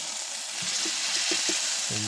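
Hot oil sizzles and crackles steadily as string bean and moringa omelette fries in a pan, with a few soft clinks and bubbling pops over the constant hiss.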